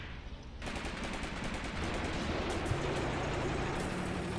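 Rapid machine-gun fire rattles continuously in the tank battle game Graviteam Tactics: Mius Front, loud and close, with a sharper burst starting early and an engine rumble beneath.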